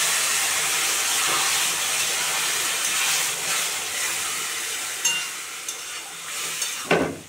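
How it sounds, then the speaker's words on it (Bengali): Panch phoron spices and green chilies hit hot oil in a Bengali home kitchen, giving a steady broadband sizzle and hiss throughout, with a few sharper crackles and pops near the end. "এখন ফোড়ন দিয়ে দেব।"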